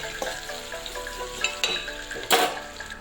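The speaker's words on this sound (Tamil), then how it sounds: "வெங்காயம் பொன்னிறமாக வதங்குற வரைக்கும் வதக்கிக்கோங்க" Onions and four green chillies sautéing in oil for chicken gravy, a continuous close sizzle broken by spatula stirs and a loud metallic scrape against the pan, no talking.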